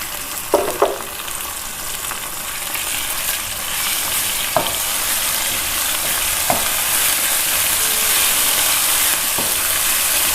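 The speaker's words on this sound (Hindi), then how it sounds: "इसे प्याज के साथ अच्छी तरह भून लेंगे।" Minced meat frying with onions and ginger garlic paste in a pan, a steady loud sizzle throughout with a few sharp stirring clinks and scrapes, no voices.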